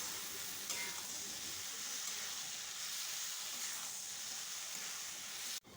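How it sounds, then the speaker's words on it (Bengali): Spice paste for a hilsa fish head curry sizzles steadily in a pan, a continuous close hiss with faint stirring scrapes, ending in a short abrupt click. "দিয়ে সব কিছু খুব ভালো রকমভাবে নাড়াচাড়া করে কষিয়ে নিতে হবে"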